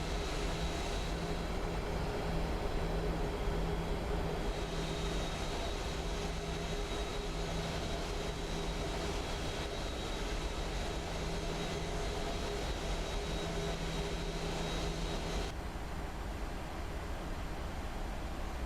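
PMDG 737-900ER jet engines roar steadily during the takeoff roll in a flight simulator, a dense unbroken rumble with a faint high whine running through it for almost twenty seconds, with no voices.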